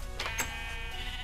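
A sheep in a video game gives a short bleat, close and clear, heard over faint background game sound.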